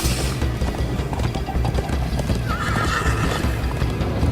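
Horse hooves clip-clop at a steady gallop with a whinnying neigh in the Minecraft: Story Mode video game, loud and close over a continuous rumbling game soundscape.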